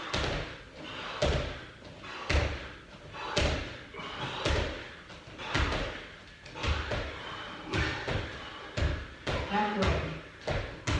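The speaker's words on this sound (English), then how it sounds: "So jump squats again." Jump squats during a Tabata workout: repeated heavy landing thuds in a steady rhythm, close and loud, with a voice talking at times over them.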